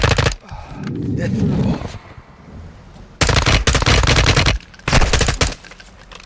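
Gunfire from the Call of Duty: Modern Warfare II campaign, heavy automatic bursts loud and close in two clusters, with a shouted voice and game chatter in between.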